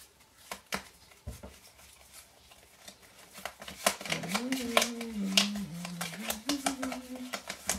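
Marseille tarot cards being shuffled by hand, a rapid run of papery riffles and taps close by, with a person talking over the second half.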